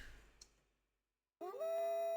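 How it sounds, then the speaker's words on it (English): Wolf howl from the Amiga game Lord of the Rings Vol. 1: after a short silence a loud, sustained synthesized tone rises and holds steady, game-sound quality rather than a natural animal. "A keen howl comes from the shadowed woods."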